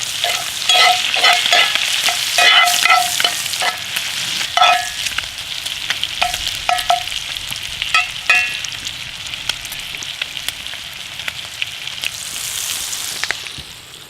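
Food fries in plenty of butter in a pan for a surf and turf steak meal, with loud crackling spatter and frequent close utensil scrapes and clicks, busiest early and thinning to a steadier sizzle later; no voices.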